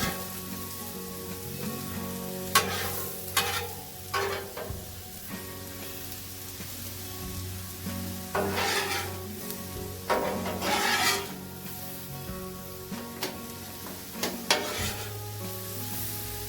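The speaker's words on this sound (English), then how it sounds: "I'll give our pecans a little toss as well every once in a while, just to keep them moving so they're toasting evenly through." Pecans and shredded Brussels sprouts sizzle steadily on a Blackstone griddle, with repeated scraping and tossing bursts from a spatula over a continuous frying hiss, fairly close and alone without talk.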